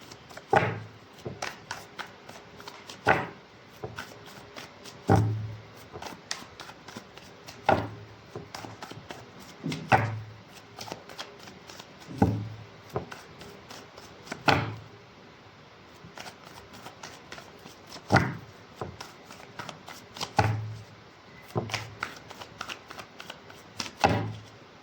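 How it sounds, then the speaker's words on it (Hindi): Tarot cards being shuffled by hand during a reading, heard as repeated crisp riffling bursts at a steady rhythm, each ending in a soft tap as the deck squares up. The sound is close and alone with no talk. "Last shuffle."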